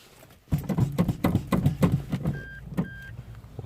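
A Toyota Corolla sounds two short, clear electronic beeps while its clutch actuator is being set up, with ignition on and the brake pedal pumped repeatedly, heard close and loud. The beeps come over a run of rapid thumping clicks.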